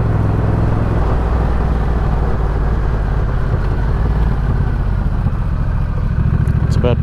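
A Honda Rebel 1100 motorcycle fitted with a Coffman's shorty exhaust runs with a dense, growly low rumble, loud and close, steady throughout with little variation.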